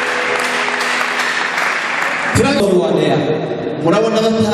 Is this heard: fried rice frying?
no